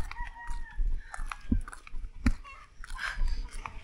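A chicken clucks and crows in short bursts nearby, with faint voices in the background.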